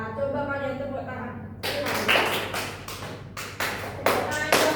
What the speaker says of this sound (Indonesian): Coba kalian tepuk tangan.